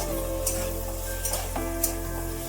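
Medium potatoes in hot oil, frying with a steady sizzle while a spoon stirs them with a few soft scraping strokes, close and fairly quiet, no voices.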